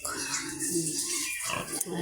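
Pig grunts and snuffles sound close by, mixed with background chatter and farmyard noise.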